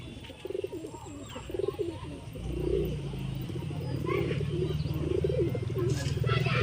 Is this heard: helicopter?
no